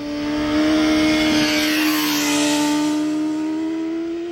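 A high-revving 2020 hypernaked sport motorcycle engine screams past 13,000 RPM at a steady, sustained pitch, loud and close, holding near its top for several seconds.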